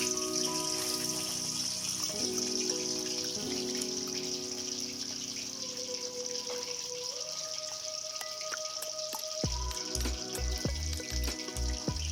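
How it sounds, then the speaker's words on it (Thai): Fish frying in a very hot wok of oil for a Thai fried fish with ginger sauce, a steady sizzle and crackle running throughout, with clattering pan or utensil knocks near the end. "เดี๋ยวเรามาดูขั้นตอนทอดปลายังไงไม่ให้ติดกระทะกันจ้า"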